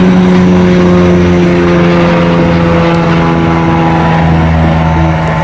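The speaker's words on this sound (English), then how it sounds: "Sorry for the plane, guys." Propeller airplane passing overhead outdoors, a steady loud drone with strong low harmonic tones holding throughout, masking other sounds.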